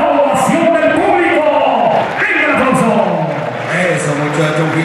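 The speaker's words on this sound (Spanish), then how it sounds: "En la segunda para que reciba la ovación." Loud crowd cheering and shouting at a rodeo after a rider's run, with voices yelling and whooping in a continuous roar of mixed vocal noise.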